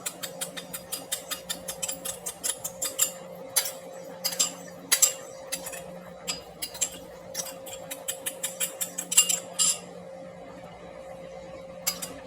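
A spoon stirs a milk mixture in a bowl, making quick, irregular metallic clinks and taps against the sides over a low, steady background hum.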